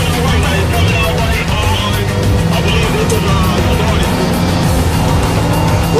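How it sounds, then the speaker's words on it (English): A police car drives fast in a car chase, its engine and road noise loud and steady throughout, with tire sounds and a faint voice mixed in. "we're chasing a car right now"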